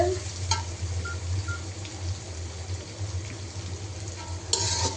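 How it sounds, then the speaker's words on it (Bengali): Prawns sizzle in hot oil with onion, green chili and garlic, a steady bright hiss throughout with a few sharper crackles and scrapes near the start and end. "পেঁয়াজ, কাঁচামরিচ, রসুন আর হচ্ছে চিংড়ি মাছগুলো আগে ভেজে নিচ্ছি"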